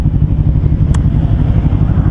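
Kawasaki Versys X 250 motorcycle fitted with a Norifumi slip-on exhaust, running with a steady loud low engine drone, close by, with one brief click midway.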